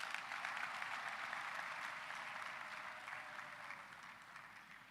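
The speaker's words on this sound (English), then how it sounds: "Let us all put our hands together and give the class of 2026 a" A crowd at a university graduation ceremony in Uganda claps steadily, a dense even round of applause that carries on throughout and eases slightly toward the end.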